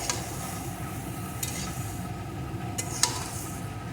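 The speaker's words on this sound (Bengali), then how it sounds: "এইভাবে সমানে নেড়ে নেড়ে রান্না করতে হবে বন্ধুরা" Eggplant with neem leaves frying in a little oil while a spatula stirs it, a steady low sizzle with a few sharp scrape strokes, close up, no voices.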